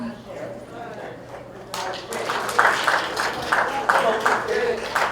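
An audience applauds a panel: scattered clapping starts softly, then swells into a fuller round, mixed with voices talking nearby.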